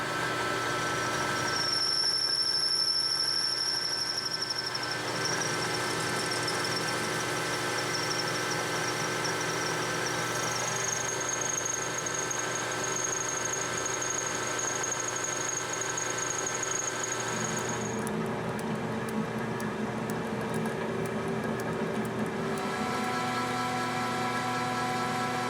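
Metal lathe parting off a small steel part for a dovetail indicator holder, a steady droning motor hum with a thin high whine from the cutting tool that shifts pitch partway through, continuous and close.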